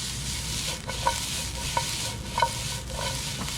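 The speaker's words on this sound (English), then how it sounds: "And then we're just gonna give that a nice" Zucchini and Thai chilies tossed and stirred in a hot pan for chicken lo mein, a steady close sizzle with a few distinct scraping stirs and clinks of the utensil.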